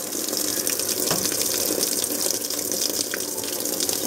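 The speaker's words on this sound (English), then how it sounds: "I'll turn the water on" Tap water gushes steadily into a traditional top-loading washing machine set for a cloth diaper wash, a continuous, fairly loud broadband rush with no pauses.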